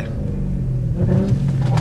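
Car engine given a quick burst of throttle while sliding on track, a close, steady low rumble that swells into a louder rev toward the end.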